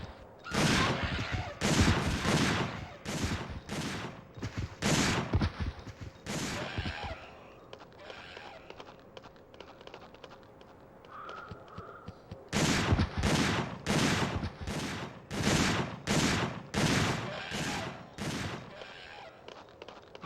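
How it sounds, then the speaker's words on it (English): Gunfire in the video game Dino Crisis 2 comes in two bursts of loud, sharp, evenly spaced shots with a quieter gap of game sounds between them. "She stops every time I shoot."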